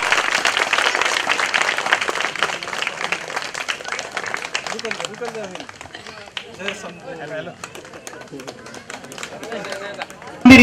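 An audience at a temple event applauds land donors: dense, sustained clapping fills the first half, then fades into scattered claps with a voice speaking over them.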